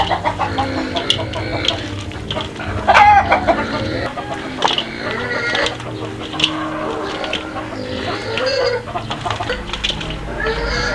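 A crowd of chickens clucks and squawks continuously close by, with overlapping calls and some rustling and background clatter.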